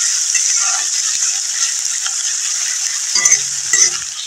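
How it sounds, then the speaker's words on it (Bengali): Chopped onion sizzling in hot oil in a pan while it is stirred, a steady bright frying hiss throughout, close and fairly loud, with a few scraping and clinking spoon strokes near the end. "পেঁয়াজটা নাড়াচাড়া করে নিয়েছি, হাফ ভাজা হয়ে গেছে।"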